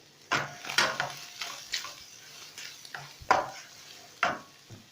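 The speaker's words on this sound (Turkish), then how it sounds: "Kıymamızı kavurmaya devam ediyoruz." Minced meat frying in a pan for a Turkish olive börek filling is stirred with a utensil, giving a soft background sizzle broken by several irregular scraping and clinking strokes.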